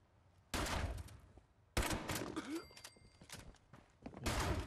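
Shotgun blasts in the video game Fallout 76: three or four loud, heavy booms with short pauses between them, and a faint voice in the background.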